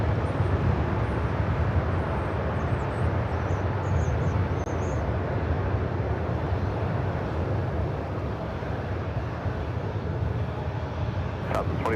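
A jet airliner rumbles steadily at LAX during a takeoff or landing, a broad continuous roar that holds loud and even throughout, with faint radio chatter in the background.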